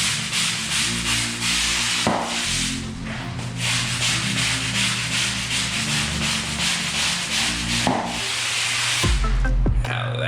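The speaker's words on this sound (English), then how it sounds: "Nice bit of scrubbing before we get started." Dirty tile and grout being scrubbed: loud, close, rhythmic rubbing strokes that continue almost without a break, over a steady low hum.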